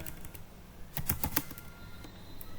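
Short burst of keystrokes on a computer keyboard while writing C# code, a quick cluster of clicks, close and clear with no talking.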